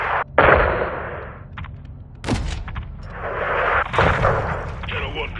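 An airstrike in Modern Warfare levels a building: heavy blasts and booming impacts strike in bursts, with rumbling debris and sharp cracks between them, loud and close.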